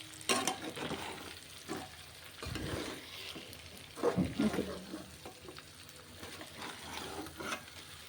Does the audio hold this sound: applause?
no